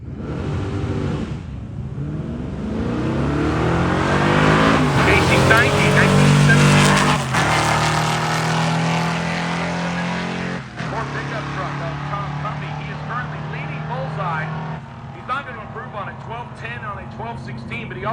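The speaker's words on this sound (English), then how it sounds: "That'll bring up the pickup truck, one of our bullseye competitors left side, against the stick shift Maverick over on the right side." A pickup truck and a stick-shift Ford Maverick race side by side at a drag-style event, with loud engines revving and roaring through gear changes and tire noise, while an announcer talks over the action.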